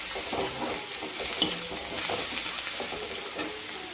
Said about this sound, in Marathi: कोथिंबीरला पण छान परतून घ्यायचं